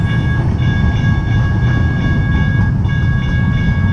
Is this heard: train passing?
yes